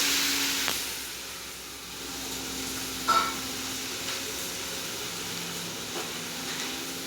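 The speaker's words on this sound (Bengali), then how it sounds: "আমাদের তেলটা গরম হয়ে গেছে। এবার এতে এক এক করে ডিমের পকেটটা দিয়ে দেব।" Soft, steady sizzling of egg pockets frying in hot oil, a constant hiss with a few small clicks and pops, fairly quiet and without talk.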